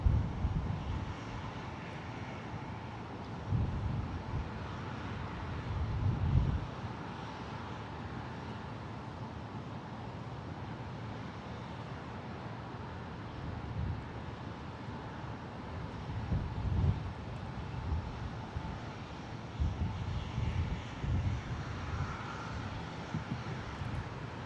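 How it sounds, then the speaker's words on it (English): A British Airways heavy jet taxis out to runway 30 right at San Jose International Airport in the evening, its engines a steady, moderately distant roar with some wind noise and no talk. "Speedbird will be our final departure of the evening as they taxi out to 30 right here."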